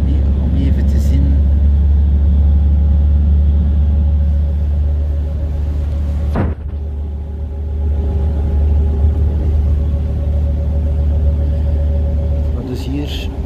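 Connexxion line 10 bus to Terneuzen heard from inside as it drives: a loud, steady low engine rumble with road noise, briefly dipping around a gear change, while people talk over it.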